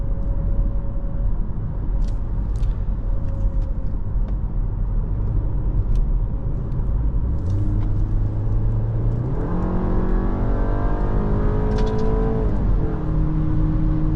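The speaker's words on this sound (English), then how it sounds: "Gets up to highway speeds fairly easily." A 2016 Audi Q3 compact SUV's engine drones steadily inside the cabin, then its pitch climbs in stages as it accelerates to highway speed, with a constant road rumble underneath.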